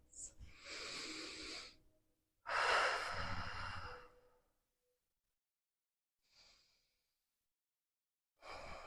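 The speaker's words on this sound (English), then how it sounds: "take 3 last deep breaths" Slow, deep breaths closing a yoga practice: two long, close, airy inhales and exhales, a faint short breath later, and another beginning at the end, with quiet pauses between.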